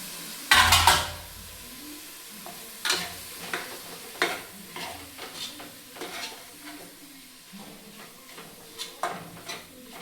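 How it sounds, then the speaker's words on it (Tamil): Chopped tomatoes stirred and sautéing in a pan for chicken biryani, opening with a loud sizzle burst, then intermittent scraping and clinks of a utensil against the pan over a soft frying hiss. "தக்காளி வந்து கொஞ்சம் ஜூஸி ஆகிற அளவுக்கு நம்ம வதக்கணும்."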